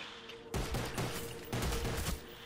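Rapid gunfire in a Call of Duty Black Ops zombies match comes in two dense bursts, each about a second long, loud and close, with quiet game ambience between them.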